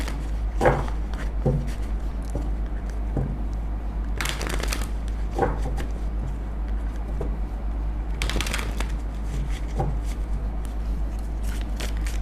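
Tarot cards shuffled and drawn for a reading, giving soft scattered riffles and slaps with a few louder bursts of card noise over a steady low hum.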